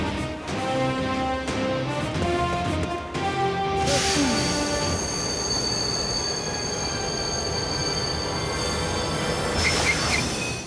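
A train slowing to a stop, its wheels letting out a long, loud metallic squeal with shifting tones over the rumble of the cars, continuing for several seconds without speech.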